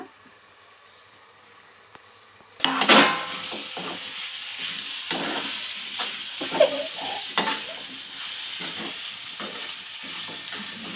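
Drumstick pieces for an egg and drumstick curry being stirred in a hot pan, silence first, then a loud burst of sizzling followed by steady frying with repeated scrapes and clinks of the spoon.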